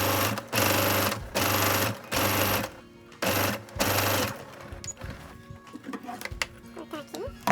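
A sewing machine stitches a seam on a fabric pencil case, running in several loud close bursts with short pauses, then dropping into lighter handling clatter.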